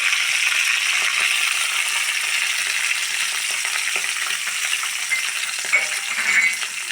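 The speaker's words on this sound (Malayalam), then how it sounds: "കടുകൊന്ന് പൊട്ടണം കേട്ടോ" Mustard seeds splutter in hot oil, a dense, bright crackling fizz with scattered pops that runs steadily for several seconds and swells briefly near the end, with no voices.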